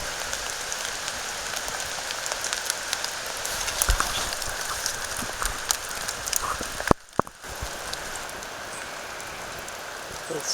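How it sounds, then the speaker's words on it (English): Steady rain falls on the North Fork Skokomish trail, a continuous dense hiss of drops on surfaces with a few louder close patters, briefly dropping out near the middle before resuming. "It's still raining"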